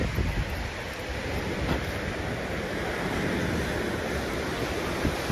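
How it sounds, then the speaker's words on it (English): Steady wind rushing and buffeting the microphone for several seconds, a constant roar with no voices. "But breezy and windy"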